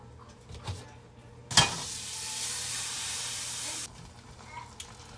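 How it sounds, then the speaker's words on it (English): A pan of scrambled eggs bursts into a loud sizzling hiss that holds steady for a couple of seconds and then cuts off abruptly, with faint stirring clinks before and after. "But I'm gonna try some scrambled eggs today."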